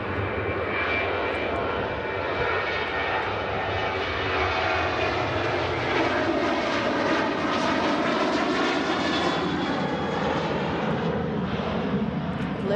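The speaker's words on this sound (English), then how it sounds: "I've learnt my lesson to let the plane go first." A fixed-wing airliner passes at Manchester Airport, its engines a steady, loud, broadband roar that holds for the whole stretch and swells slightly toward the middle as it goes by.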